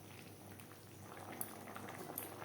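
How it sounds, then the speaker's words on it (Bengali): A pot of potato curry boils hard on a high gas flame, giving a steady bubbling simmer with a few small pops over a continuous low rumble. "হাই ফ্লেমে 2-3 মিনিট ফুটিয়ে নেব।"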